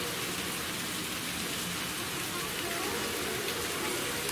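Steady, dense rain falls throughout at a temple site with heavy stone blocks, a continuous hiss of drops on surfaces with no breaks and no talk.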